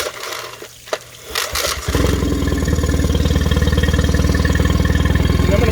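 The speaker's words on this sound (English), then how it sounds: "And I'm going to start this up one more time." A Mercury 20 HP outboard motor cranks with a short rattling pull and catches, then settles into a loud, even, rapid idle that runs steadily to the end, close up with no voices.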